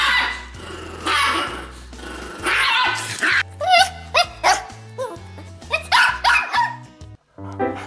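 A Chihuahua barks loudly and repeatedly at close range, a rapid run of sharp yaps mixed with growls and a few whimpering yips, with short pauses between bursts.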